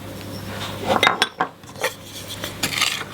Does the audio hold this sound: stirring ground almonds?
yes